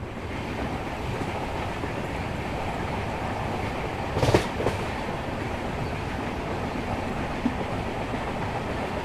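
A Konkan Railway train pulls out of Kankavli station, giving a steady, continuous rumble of running gear and wind with a brief louder burst near the middle. No one speaks.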